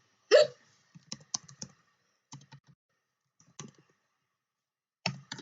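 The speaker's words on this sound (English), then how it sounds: "Thank you for calling my hiccups cute." Several short hiccups scattered through an otherwise quiet stretch, each a brief isolated burst, close and fairly soft, with no talking.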